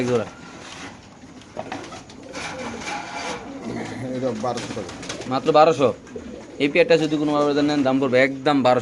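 Racer pigeons coo in soft, throaty bursts close by, mixed with people talking and some rustling.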